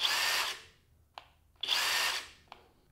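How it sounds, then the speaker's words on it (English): A Skil 1/2 inch cordless impact wrench runs in reverse mode in two bursts of roughly half a second each, and each burst ends in a sharp click as it stops automatically. The sound is close and clear, with no talking. "So reverse mode, you hold the trigger down and it stops automatically, even though I'm holding the trigger."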